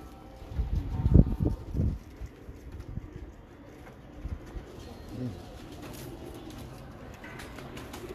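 Low, soft coos from Imam Deen pigeons bubble up in a few short bursts early on, then fade to faint murmurs against quiet background noise.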